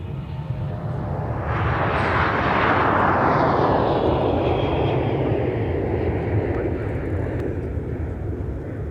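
A Sun Country airliner departs Minneapolis–St. Paul Airport bound for Phoenix, its engines a loud, sustained roar that swells and sweeps past, dense broadband rumble holding steady throughout with no voices.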